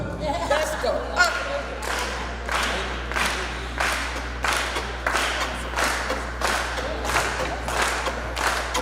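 A group claps in steady unison on the beat, about one sharp clap per second, at a lively gathering, with a low hum and crowd noise underneath.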